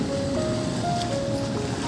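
Rough sea on the coast of Phu Quoc, Vietnam, where waves wash in as a constant loud broadband roar with wind buffeting the microphone and a faint thin tone running underneath.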